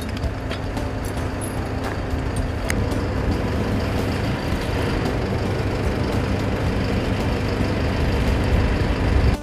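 A tow truck and heavy snow-clearing machinery work a residential courtyard in Nizhny Novgorod, where loud, continuous diesel engine rumble and mechanical clatter hold steady throughout, close by and without speech.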